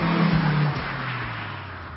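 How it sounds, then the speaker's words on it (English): A German car with 112 horsepower accelerates up a hill climb course, its engine note loud and close, rising and then easing slightly as it pulls away over two seconds. "112 of the finest German horsepower hurling me up this hill."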